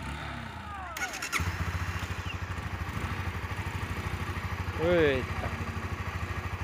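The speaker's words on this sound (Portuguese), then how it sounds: "E a moto tá boa aí, pegou de primeira." A motorcycle with new tires idles steadily close by, its low chugging engine note running throughout while people talk over it and a brief whistle-like chirp cuts in partway.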